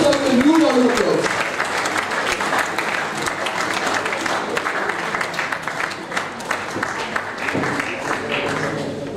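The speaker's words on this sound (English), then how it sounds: "May we please welcome sir with a new round of applause." A conference audience gives a welcoming round of applause for the registrar, loud and sustained clapping that carries on through most of the moment while a voice speaks over it.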